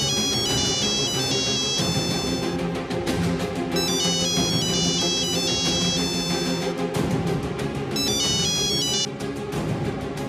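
Electronic ringtone chiming for an incoming phone call, looping a bright melodic pattern in repeated bursts over steady background music.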